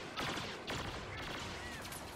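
Rapid blaster shots ring out during Star Wars Battlefront multiplayer combat, a dense, moderately quiet volley of cracks over busy background noise.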